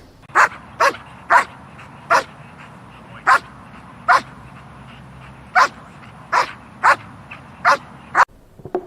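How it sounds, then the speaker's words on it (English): A black German Shepherd puppy barks on command during protection training, giving about fourteen sharp, loud barks in irregular bursts with short pauses between them, close by and with no talk over them. "barking on command while holding the body while moving"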